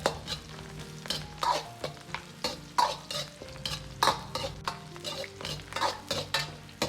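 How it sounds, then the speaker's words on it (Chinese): Dried chili peppers and red Sichuan peppercorns stir-fry in a wok, with a steady oily sizzle under repeated scraping and clanking strokes of a metal spatula, close and fairly loud, no talk. "炒至干辣椒呈枣红色"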